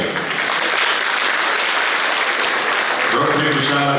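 An audience at a Rotary club mimicry performance breaks into loud, sustained applause, a dense wash of clapping from a large crowd, with a voice starting to speak over it near the end.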